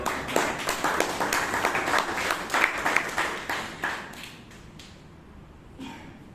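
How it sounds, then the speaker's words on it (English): Audience applause at a Toastmasters meeting in Bangalore, steady dense clapping from a room full of people that tapers off toward the end. "let's give a big round of applause to"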